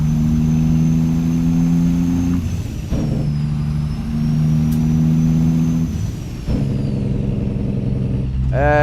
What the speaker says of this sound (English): Is the engine sound a bit loud for you guys today?